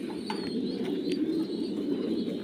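A young pigeon or dove coos softly in a steady low murmur, close and continuous, with faint higher chirps and background noise around it.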